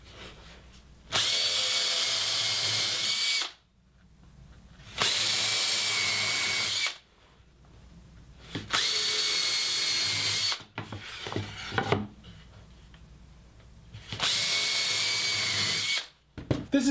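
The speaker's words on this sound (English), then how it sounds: "The next step is making the holes here for the dowel and the holes to attach the bottom." A power drill bores dowel holes into a wooden board for a garden harvest basket, whining in four steady bursts of about two seconds each, separated by quiet pauses with faint handling knocks.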